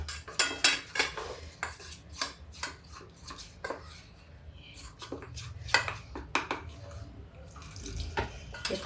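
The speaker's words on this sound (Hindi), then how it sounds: "इसको पतला घोल बनाएंगे" Rice flour being stirred into a thin batter in a bowl in a home kitchen, with irregular clinks and scrapes of a spoon against the bowl, close and fairly quiet.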